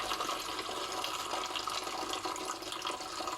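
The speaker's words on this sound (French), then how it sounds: "Ça savonne doucement." Homemade liquid hand soap worked into a lather with water, giving a steady, close wet hiss and gentle sloshing that runs evenly throughout without pauses.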